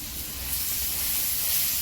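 Chopped brinjal hits hot oil in a pan and sizzles with a steady, even hiss throughout, close and moderately loud with no talking.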